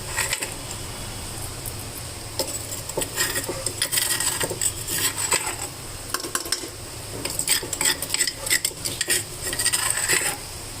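Metal spoon scraping and clanking in a pan as a ground peanut, garlic and green chili paste is stirred into frying gourd curry, irregular close clinks over a low sizzle with no talking.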